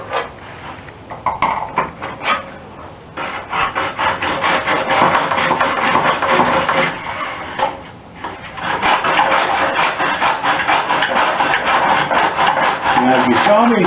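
A handsaw cuts through a pipe in a miter box with steady back-and-forth rasping strokes, close and continuous, pausing briefly before resuming.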